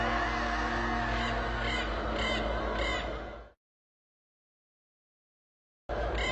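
Crows caw repeatedly in a dense, harsh chorus as a sound effect in a French Bible audiobook of the Book of Revelation. The cawing cuts off into a couple of seconds of silence before resuming briefly at the end.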